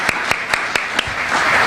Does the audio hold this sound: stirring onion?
no